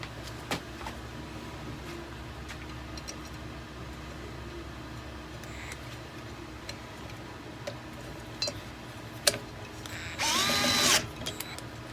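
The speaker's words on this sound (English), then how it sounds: "Or I can use my handy dandy gyroscopic screwdriver and put the screw in there and tighten it up." A DeWalt DCF682 gyroscopic cordless screwdriver drives a screw: faint clicks and ticks, then a short, loud whirring burst of the motor near the end.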